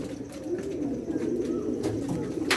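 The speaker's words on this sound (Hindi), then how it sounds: "ये कबूतर हैं" Soft, continuous cooing of Sherazi pigeons in red, green-silver and black varieties, a low warbling murmur that carries on throughout with no talking, a few faint chirps above it.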